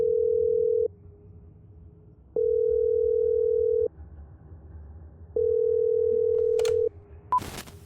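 A phone call in a video game sounds a steady electronic tone in three long, evenly spaced beeps separated by short pauses, ending in a brief click.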